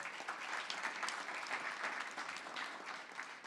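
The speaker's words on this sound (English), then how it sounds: "let's give her a round of applause, please" A community forum audience on youth and police relations gives a round of applause for the evening's facilitator, dense and sustained clapping that stays level throughout, fairly soft overall.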